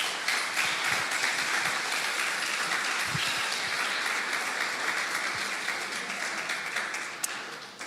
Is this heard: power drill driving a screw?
no